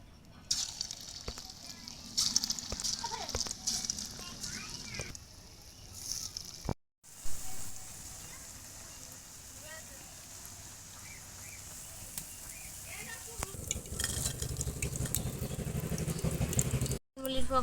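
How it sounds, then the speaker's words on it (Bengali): Rose apple pakoras fry in hot oil, giving a steady crackling sizzle that runs the whole way, broken by two brief silent gaps, with louder bursts of bubbling toward the end. "এবার আমি বাকি পকোড়াগুলো একইভাবে ভেজে নেবো"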